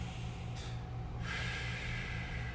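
A deep breath in during a calf and hamstring stretching routine, a brief close airy inhale with a snort-like rush through the nose, followed by a soft steady hiss.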